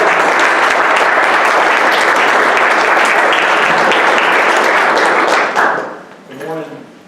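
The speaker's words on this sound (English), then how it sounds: "give them a round of applause and welcome them up here" A McDougal co-working space audience breaks into loud, dense applause that fills the room for several seconds, then fades as a single voice starts speaking near the end.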